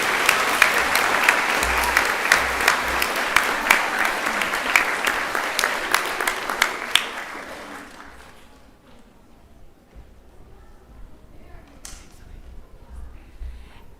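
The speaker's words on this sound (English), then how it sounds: "Let's put our hands together for a final round of applause" A school assembly audience at a girls' grammar school badges ceremony applauds in a dense, loud wash of clapping that fades out after about eight seconds, leaving a quieter room with scattered rustles.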